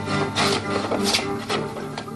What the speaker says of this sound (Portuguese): Essa ferramenta simples é usada para alisar e dar acabamento às superfícies.